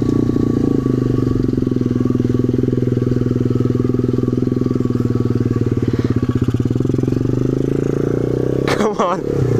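An SSR 125 motorcycle with its stock motor and a completely bald tire drones steadily at mid revs while riding through mud, the close engine note holding nearly constant, then a brief clatter near the end.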